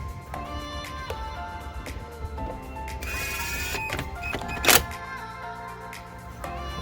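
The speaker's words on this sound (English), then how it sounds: "Now I'll put this dash screw in." A power driver sinks a dash screw into a new Rubicon dash in a Jeep JLU, giving a brief whirring burst followed by a sharp click, fairly quiet over a low background hum.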